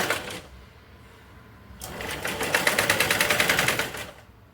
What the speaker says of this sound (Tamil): டபுள் ஸ்டிச் வந்து நீங்கள் போட்டுக்கோங்க